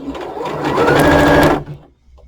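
A sewing machine stitches fabric for a hat in a fast, close, buzzing run that swells, holds for about a second, then stops abruptly.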